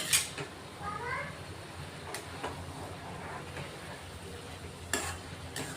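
Fenugreek (methi) greens cook and get stirred in a pan, giving soft sizzling with a few scraping and clinking spoon strokes against the metal, faint and close.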